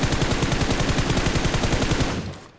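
Rapid automatic gunfire rattles in PUBG Mobile, a loud, steady burst of evenly spaced shots lasting about two seconds before cutting off and fading.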